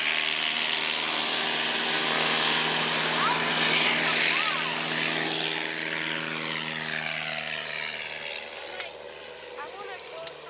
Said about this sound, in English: you're seeing a Piper take off in 300 feet